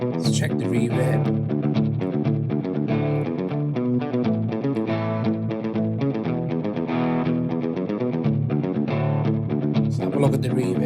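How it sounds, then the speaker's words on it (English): Electric guitar through a Donner Arena 2000 multi-effect pedal playing steady chords with a wash of effects and a lingering reverb tail, loud and continuous throughout. "Let's check the reverb."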